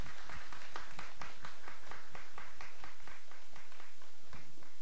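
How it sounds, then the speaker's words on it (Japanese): At the Iwate youth culture festival's 2015 performing contest preliminaries, an audience applauds a singer after her performance. The clapping comes as an even, rhythmic run of crisp claps over low room rumble, with no talking. "改めて大きな拍手をお送りください。"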